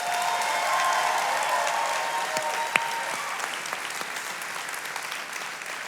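An audience in a church hall applauding steadily, a dense patter of many hands that holds evenly throughout with a few sharper claps and faint voices beneath.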